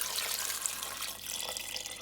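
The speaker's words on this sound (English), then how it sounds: "He's adding some water to the potatoes." Tap water runs steadily into a pot of potatoes on a kitchen stove, a continuous close hiss and splash with no talking.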